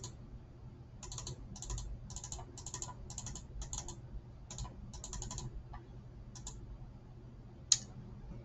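Computer mouse clicked in quick bursts of two and three, a series of sharp, close, quiet clicks spread across several seconds with short pauses and one louder click near the end.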